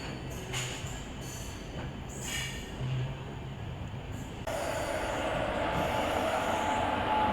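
The Jan Shatabdi Express rolls into a platform at Hubballi station, giving a steady rumble of carriages and wheels with faint squealing. The sound grows louder and brighter about two-thirds of the way through, and no one speaks.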